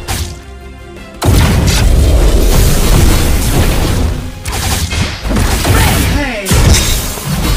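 Video game Legend of Ace, a turret being destroyed: a loud booming explosion bursts in after a brief quiet lead-in, followed by crackling blasts and shattering effects in dense game audio.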